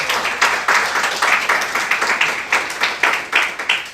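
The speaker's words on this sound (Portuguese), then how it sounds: "Eu queria que você desse uma salva de palmas ao Senhor" A church congregation claps in rhythm during a service, a steady run of loud, sharp, evenly spaced claps that continues throughout.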